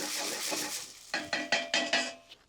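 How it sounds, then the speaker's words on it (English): Onions are stirred in a saucepan, sizzling at first, then a spoon scrapes the pan in five or six quick rhythmic strokes, close and fairly loud. "Let's give our onions a little bit of a stir."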